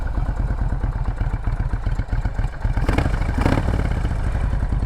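A Kawasaki Meanstreak cruiser motorcycle with 41,000 km on it idles close by with a loud, steady, lumpy rhythmic thump and a rattling mechanical clatter, the beat briefly quickening in a short blip of throttle.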